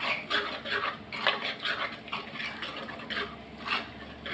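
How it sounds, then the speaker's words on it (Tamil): Onion, garlic and other ingredients for a kulambu sautéing in oil, a soft steady sizzle with scattered clinks and scrapes of a spoon against the pan, recorded close. "இப்போ இதையும் போட்டு நல்லா எண்ணெயிலே வதக்கிக்கிடலாம்."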